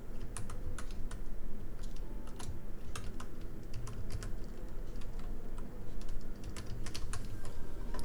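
Fingers tap on a computer keyboard in a rapid irregular stream of light clicks over a low steady room hum, close by and without speech.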